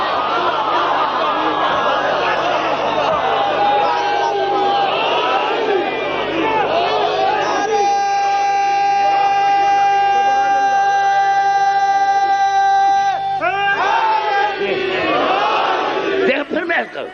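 A majlis congregation raises loud chanted religious slogans together, sustained massed voices with one long held tone in the middle, close and continuous before breaking off near the end.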